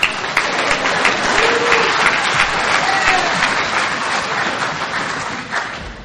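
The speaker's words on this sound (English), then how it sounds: "A few awkward, slow claps." An audience at an Alcoholics Anonymous speaker meeting in Bowling Green, Kentucky gives sparse, slow applause, a loose patter of claps that holds steady and then trails off.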